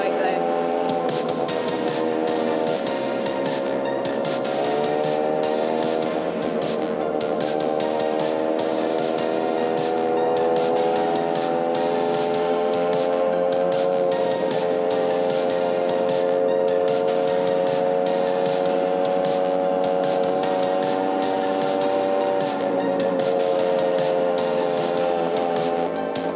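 A Honda Stream NV50 moped is ridden along with a steady, droning engine hum and a constant wind-like rush, heard up close throughout without letup.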